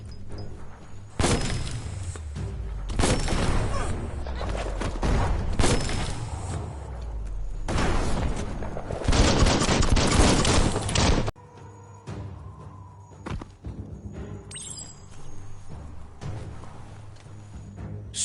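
Biomutant bomb lobber enemy hurling explosives, a long run of loud thudding booms and rumbling blasts for about ten seconds, then a sudden cut to quieter clanks and mechanical knocks.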